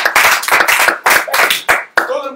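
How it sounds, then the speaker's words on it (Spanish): Audience applause at a live Peruvian TV program, a burst of clapping from a crowd that rises and falls in loud waves for about two seconds, with a voice breaking in near the end. "nuestra querida Jacqueline Martínez, que te doy un gran aplauso, por favor"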